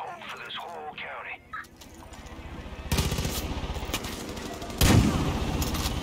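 Gunfire in Far Cry 5, with two sharp loud shots standing out amid game dialogue and ambient noise, the second heavier and closer.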